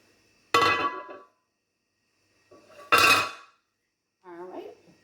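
A baked chocolate holiday cake knocked loose from its metal pan gives two sharp, close clanks about two seconds apart, followed by a brief voice near the end.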